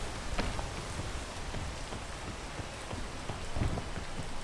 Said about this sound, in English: The rain can't get me here.